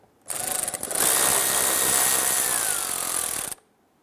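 A 10mm socket on a power tool spins to loosen and remove the lower nuts holding the driver side exterior mirror of a 2009-2015 Honda Pilot, giving a close, steady whirring run of about three seconds that shifts slightly in pitch.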